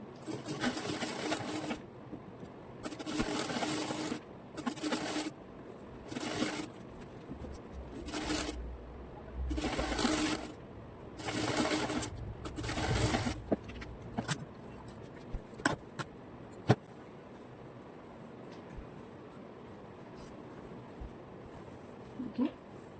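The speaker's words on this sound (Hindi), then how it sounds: "हम लेस के मार्जिन के साथ इसको स्टिच करते जाएंगे। सीधी सिलाई लगा देंगे।" A sewing machine runs straight stitches to attach lace along a ladies' pant hem, whirring in repeated short bursts separated by pauses, close and fairly clear, then falling quiet with small handling clicks near the end.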